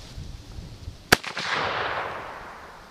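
A single loud gunshot from an 1873 Trapdoor Springfield rifle fired outdoors at a distant target, a sharp crack followed by a long fading rumble of echo.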